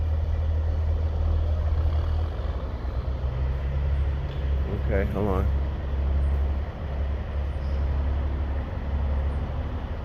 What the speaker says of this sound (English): I hear the truck.